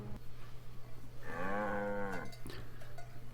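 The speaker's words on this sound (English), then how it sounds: "Is it a cow?" A cow gives one long, close moo with a rising then falling tone, heard over a low steady hum, followed by a couple of brief knocks.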